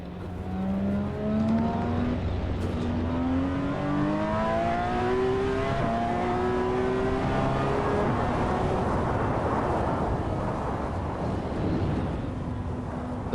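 A Porsche engine in a driving video game rises steadily through several gears, each rising whine climbing and shifting in a steady rhythm, then settles into a loud, rough, sustained roar while cruising through traffic.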